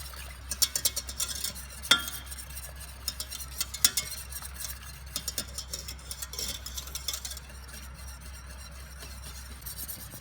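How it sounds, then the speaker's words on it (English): Hot custard for apple crumble whisked in a pan as it returns to the boil, quiet rapid clicking and scraping strokes in uneven bursts over a low steady hum. "Keep whisking the custard as it comes back up to the boil."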